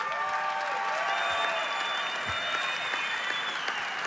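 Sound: audience applauding, standing ovation after MMA fight

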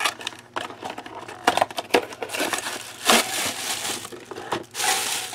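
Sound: opening a crafting kit package

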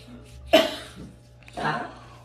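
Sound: cough

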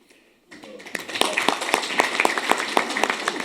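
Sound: audience applause at award ceremony

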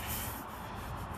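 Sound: sanding car body with 220 grit sandpaper

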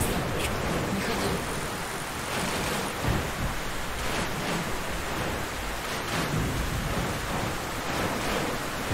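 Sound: storm with rain and thunder in Metro Last Light video game

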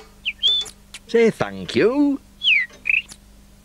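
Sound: pet bird chirping and squawking

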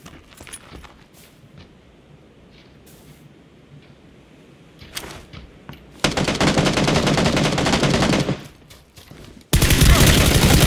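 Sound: gunfire in the video game PUBG

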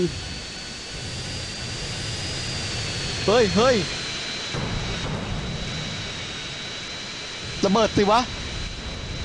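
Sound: fighter jet engine in video game GTA San Andreas

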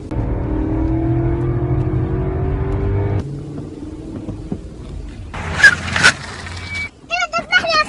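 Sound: car driving fast

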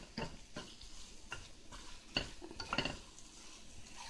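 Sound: turning eggs in frying pan with spatula

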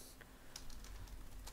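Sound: typing a command on a computer keyboard in a terminal

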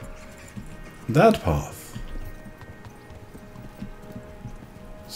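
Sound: horse riding hoofbeats, Kingdom Come Deliverance video game

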